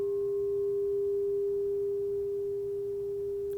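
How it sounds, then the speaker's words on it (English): A crystal bowl, struck once, rings with a pure, steady tone that sustains evenly and fades only slightly, alone in a quiet room. "if you have a crystal bowl"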